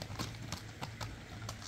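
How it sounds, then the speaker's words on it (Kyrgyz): A horse walking, its hooves clip-clopping in an irregular steady rhythm, faint and somewhat distant. "Өтө көп минирген жылкы окшойт болчу."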